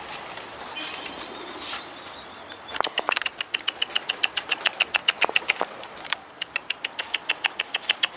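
Stray pigeons flap their wings while landing, a quick series of close, sharp wingbeats in rhythmic bursts over faint outdoor background noise.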